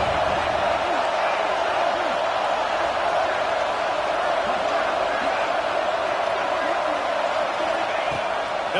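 A home stadium crowd at a college football game between Ohio State and Clemson roars in a loud, sustained wash of cheering that never lets up, with a commentator talking over it.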